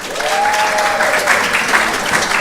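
Audience applause at a quality week event at the NMIMR Noguchi institute, a steady sustained clapping from a crowd across the whole moment, with a faint whistle-like tone early on.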